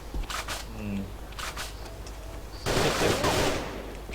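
Short bursts from a CZ 805 BREN A1 rifle in the KAVA shooter game, a few sharp shots followed by a louder sustained volley, with someone talking alongside.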